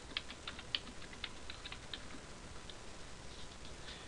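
Typing on a computer keyboard, a few quiet irregular key clicks in short bursts over a faint steady background hiss.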